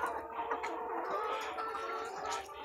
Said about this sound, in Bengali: এই মুরগিগুলো